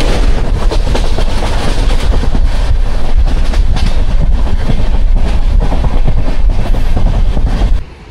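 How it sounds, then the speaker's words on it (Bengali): Netaji Kalka Mail train rolling along the rails after leaving Dhanbad, a steady loud rumble with rhythmic clicks from the wheels that continues throughout before cutting off abruptly at the end. "আর ধানবাদ থেকে কিন্তু আমাদের ট্রেন ছেড়ে দিল।"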